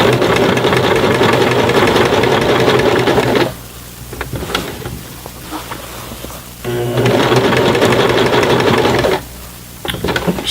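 Sewing machine stitching a jeans hem, running loud and close in two sustained bursts separated by a quieter pause with faint handling noises, then starting briefly again at the end.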